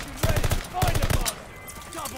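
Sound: gunfire from a video game, Call of Duty Vanguard

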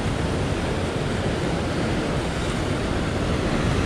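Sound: sea waves on a rough day while fishing

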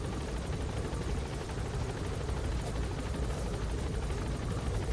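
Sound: helicopter in the video game Metal Gear Solid V

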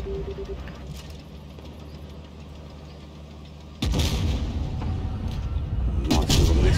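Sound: tank gun firing in video game World of Tanks Blitz

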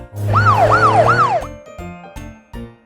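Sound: police car siren in a children's cartoon

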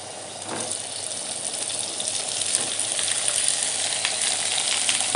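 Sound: potatoes frying in oil with turmeric and leaves

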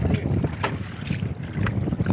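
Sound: strong wind at sea while fishing from a boat

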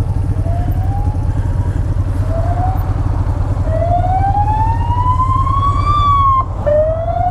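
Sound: siren

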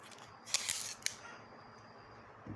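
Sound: adhesive tape being wrapped and torn around batteries

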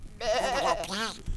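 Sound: small sheep bleating

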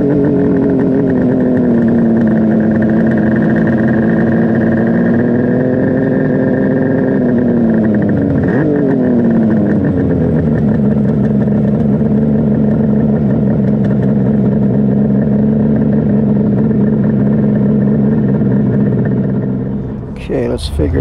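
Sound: 1976 Kawasaki KH500 H1 motorcycle riding

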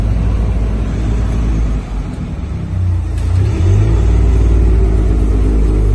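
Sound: Toyota GR Yaris 612 bhp engine revving

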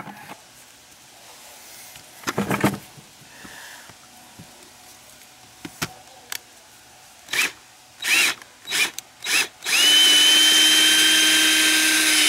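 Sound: screws being loosened with a power drill

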